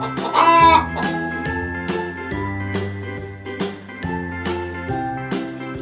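A cartoonish hen clucks at the start of a children's alphabet tune, set over bright chiming music that keeps a steady beat.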